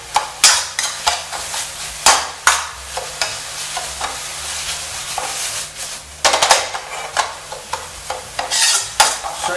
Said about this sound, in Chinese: 然后我们再把这个水分炒干哦